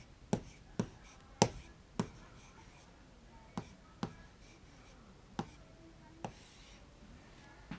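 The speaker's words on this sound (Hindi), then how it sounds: "तो हम यहाँ लिख देंगे लिफाफा।" Pen strokes on a paper chart, a string of short sharp scratches and taps spaced irregularly and heard close up against a quiet room, with no talking.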